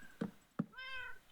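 A cat in the video game Minecraft meows, two short chirps followed by a longer drawn-out meow, close and clear with no talk over it.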